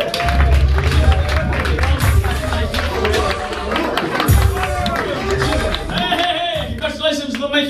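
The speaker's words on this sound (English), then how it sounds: "please give a big round of applause to Big Ben." Applause and cheering from a standup comedy crowd in Singapore, mixed with chatter, thumps and background music, a busy, loud room where clapping runs under other noise rather than standing alone.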